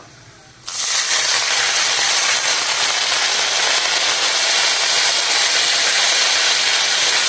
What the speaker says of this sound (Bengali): এবার তেলের মধ্যে অল্প একটু জল দিয়ে দেবো